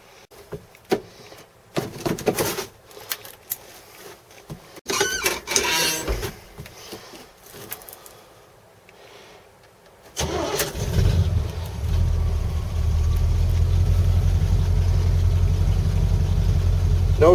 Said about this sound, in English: Gonna start this thing up, bring it in the shop